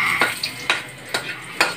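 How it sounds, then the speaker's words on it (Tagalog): Garlic sautéing in cooking oil in a heated pan, with several sharp metal clinks of a utensil stirring against the pan, spaced irregularly over a low sizzle. "Lagyan ng mantika, tapos ilagay na yung mga bawang. Igisa siya ng mabuti"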